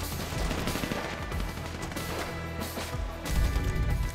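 Gunfire in Grand Theft Auto 5 on PS5: a dense, loud run of rapid shots and impacts that continues steadily, swelling heavier near the end, with no talking.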